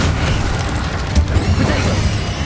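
A Confringo blasting spell explodes during a Hogwarts Legacy video game battle: a dense, loud, booming rumble with a sharper burst in the middle, heard close amid continuous combat noise.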